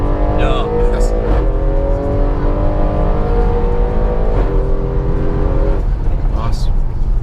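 An Audi quattro, apparently an RS6 or RS3, launching hard and accelerating, its loud engine note climbing steadily through the gears up close, with people talking over it inside the car.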